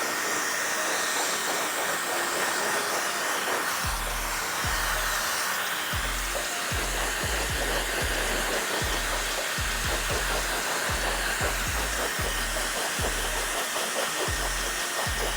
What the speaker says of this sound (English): So now I'm gonna go ahead and blow dry the top, get it really dry